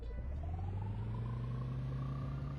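Steady car engine hum from a Roblox Bloxburg vehicle, revving slowly upward in a smooth continuous drone, alone without talk.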